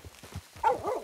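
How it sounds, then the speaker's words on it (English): A dog companion in the video game Red Dead Redemption 2 gives a few short, soft barks and whimpering yips, close and fairly quiet, with a voice rising over the final half. "We have a dog companion?"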